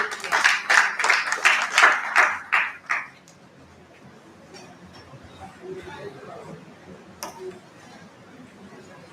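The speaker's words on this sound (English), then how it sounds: "Round of applause for her." Audience applause at an annual in-house research review and planning meeting: a burst of clapping for about three seconds, then fading into low chatter and room murmur.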